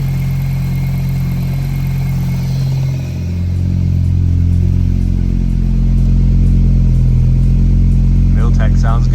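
A Milltec car engine runs steadily at a loud, close idle with a deep, even drone, its pitch rising a little as it revs partway through.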